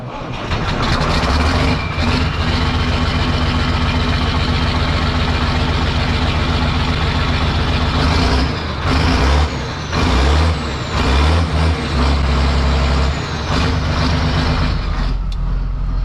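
Case IH 3690 tractor engine cranking, catching and settling into a loud, close diesel idle with a steady throbbing rumble, then a few uneven revs and fluctuations near the end.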